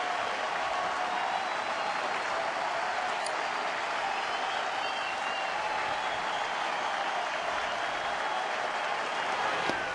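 Baseball stadium crowd during a Tigers–Twins game roars and cheers in a steady, dense wash of noise that holds at a constant level throughout, broad and enveloping with no single voice standing out.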